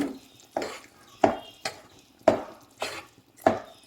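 A spoon scrapes around a pot of payasam in about seven steady, evenly spaced stirring strokes, close up and with no talking.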